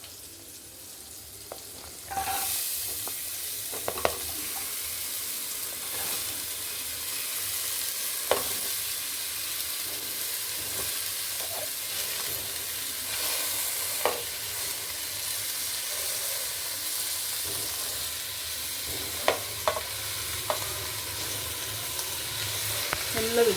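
Sweet corn, capsicum, carrot, onion and broccoli fry in melted butter for pasta, a steady close sizzle starting after a short pause, punctuated by occasional light clicks of stirring.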